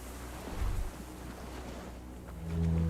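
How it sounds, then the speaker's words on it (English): Distant cargo ship signal horns echo across the water in the Disco Elysium video game: low, deep blasts, one brief and one starting near the end, over a soft wash of wind and waves. "Distant sound of cargo ships, signal horns echo on the water."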